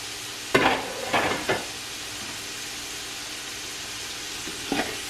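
Celery and onion sizzle in a hot pan with a steady frying hiss, broken by a few short louder stirring scrapes near the start and one more at the end.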